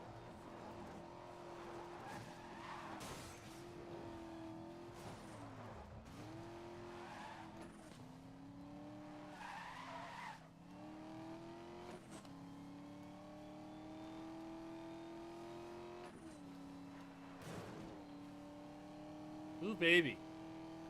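In Need for Speed: Most Wanted, a Mercedes-Benz AMG's engine drones steadily as it races, with the pitch rising and falling through gear changes, brief tire squeals and a sharp impact near the end, while a voice speaks briefly.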